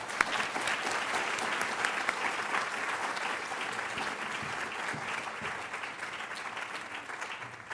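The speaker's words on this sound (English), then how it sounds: "Please join me in a warm round of applause in welcoming our speakers." Steady, sustained applause from a sizable audience at a health care policy panel welcoming speakers, dense clapping filling the whole stretch at an even level.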